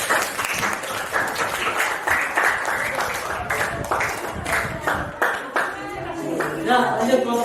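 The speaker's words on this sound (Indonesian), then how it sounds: "Tepuk tangan untuk kelompok 2." A classroom full of teacher trainees applauds a group's presentation, steady clapping carrying on for several seconds with a few voices rising near the end.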